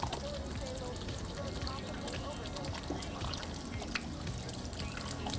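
Water pours and trickles over hands during ablution at a mosque in Istanbul, a soft, continuous splashing with faint drips, heard at low volume under the quiet background of the washing area.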